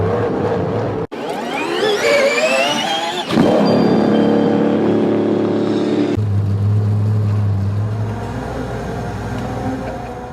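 A 1,001 hp Lamborghini Revuelto supercar's combustion engine fires up and revs loudly and close, rising in pitch in repeated sweeps before settling into a deep, steady idle.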